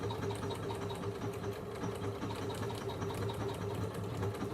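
A Janome Memorycraft 9900 sewing machine stitches out lettering, running steadily with a fast, even needle rhythm and a motor whir, close and continuous with no talking.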